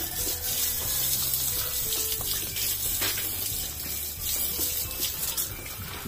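Water runs in a continuous splashing gush while pigs are bathed on a farm, fairly close and steady throughout with a low hum underneath.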